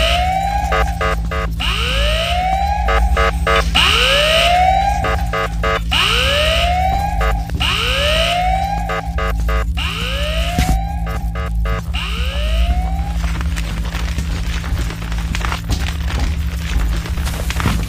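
A wailing alarm siren in the horror video game Ice Scream 8, rising and falling in repeated sweeps about every 1.5 seconds over a steady low drone, loud and close, then giving way to a noisy rumbling bed near the end.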